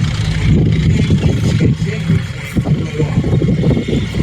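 A heavy Cold War tank engine, a Jaguar E-Type car engine, rumbles steadily at low pitch, close by and continuous, with some wind buffeting the microphone.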